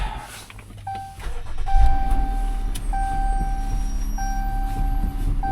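A used car's engine running at idle, with a steady low rumble and thin whining tones, heard close and alone without talk.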